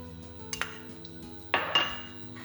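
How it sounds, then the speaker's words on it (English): Onions tossed into a hot pan of olive oil land in two short clattering bursts, about a second apart, over a steady tonal background. "I'm going to add a tablespoon of olive oil, and I'm chucking in my onions"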